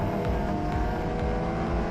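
A race car at a GRIDLIFE track event in South Carolina roars past at speed through a fast kink, a loud sustained engine howl close by.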